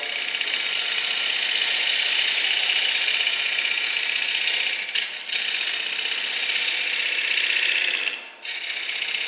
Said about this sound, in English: letting the wood meet the gouge